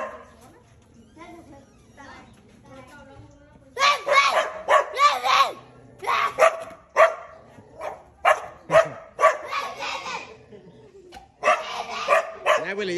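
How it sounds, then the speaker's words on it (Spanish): Dogs bark in a rapid run of loud, close, sharp barks and yips, clustered in uneven bursts after a quieter opening with some talking. "Willy, habla con los perros."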